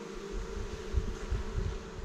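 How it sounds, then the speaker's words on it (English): A honey bee swarm being moved into a new hive, its colony loudly roaring as it searches for the queen; a dense, steady low buzz with some rumbling bumps, close by and continuous, no voices. "a roaring hive is looking for their queen"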